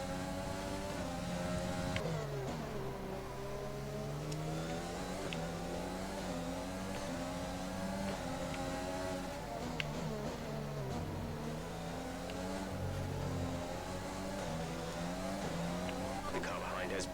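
F1 cars in F1 2020 drag racing side by side, loud layered engine whines rising and falling with gear changes, continuous and close for the whole stretch.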